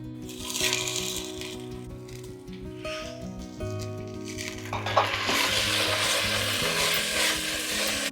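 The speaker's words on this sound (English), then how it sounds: "It's been frying for 5 minutes." Onions and ground masala sizzle and crackle steadily in a hot pan for Goan pork sorpotel, with occasional scraping and stirring, rising to a louder fry toward the end.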